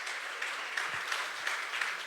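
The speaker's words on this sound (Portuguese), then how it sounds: "Pode aplaudir o Senhor Jesus Cristo" Members of a church congregation clap continuously in praise, a close, even patter of hands with no pauses.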